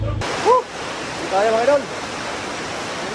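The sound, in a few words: heavy rain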